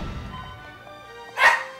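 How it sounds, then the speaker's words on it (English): A pet dog named Watson gives a single sharp bark near the end, loud and close, after a stretch of quiet room tone. "That's my dog Watson."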